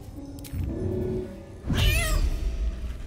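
A cat in the Baldur's Gate 3 video game gives two drawn-out meows. The first is lower and rough, and after a short pause a louder, rising yowl follows and carries to the end over a steady game backdrop.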